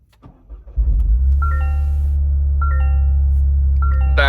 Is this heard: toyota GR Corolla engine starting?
yes